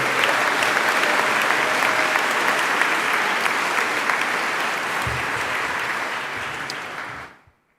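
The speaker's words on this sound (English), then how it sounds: "So we'd have a round of applause for those guys as well." Sustained audience applause fills a graduation ceremony hall, loud and dense throughout, then fades and cuts off near the end.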